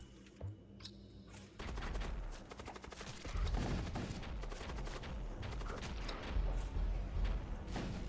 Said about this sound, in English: Firing many shots at me